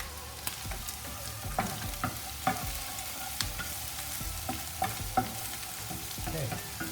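Danish butter melts and sizzles in a frying pan, a quiet steady crackling hiss with scattered small pops and clicks, close but faint, with no talking.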